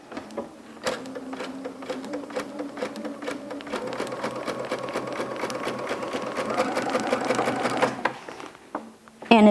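A sewing machine stitches a girls' zipper-back top in elastic thread at stitch length 4 and tension 6, running in short bursts and then a longer steady whirring run with rapid rhythmic clatter, close and moderately loud.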